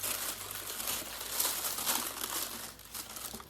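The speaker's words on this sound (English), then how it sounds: "And they wrap this on. It's like you don't want to unwrap it." Plastic wrap is peeled and crinkled off a makeup eyeshadow palette, a continuous close crackling rustle that carries on steadily for a few seconds.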